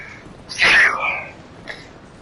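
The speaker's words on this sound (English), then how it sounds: "Excuse me while I sneeze." A single sharp human sneeze during video game commentary, loud and close, followed by a faint short breathy sound.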